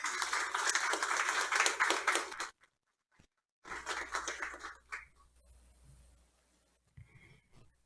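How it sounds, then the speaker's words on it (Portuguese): A municipal legislative chamber audience claps at a formal inauguration session, a dense burst of applause that stops suddenly, then resumes more sparsely and trails off into scattered claps. "Vamos aplaudir."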